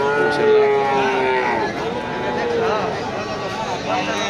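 A cow gives a long, drawn-out moo up close amid a busy, noisy crowd with voices chattering around it, at a cattle market in Nandail Chowrasta, Mymensingh.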